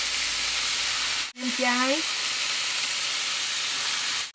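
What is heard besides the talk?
sizzling stir-fry for vegetarian porridge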